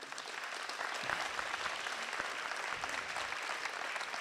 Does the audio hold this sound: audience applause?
yes